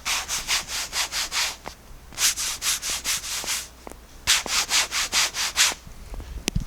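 A hand rubs rhythmically back and forth over a painted furniture covering with sanded and unsanded areas, making close, even swishing strokes in three bursts of about six strokes each, separated by short pauses.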